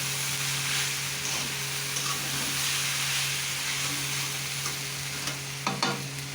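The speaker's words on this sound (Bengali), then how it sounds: "তো পটল আলু ভাজছি।" Pointed gourd and potato frying in a wok sizzle and hiss steadily up close, with occasional stirring scrapes toward the end and a constant low hum behind.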